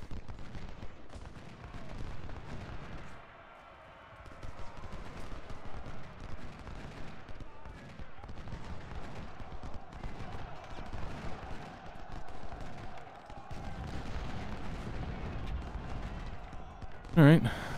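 Musket fire in the Civil War game Ultimate General, a point-blank volley against Mahone's troops: dense, sustained crackling gunfire rolling continuously over about eighteen seconds with a brief lull near the start.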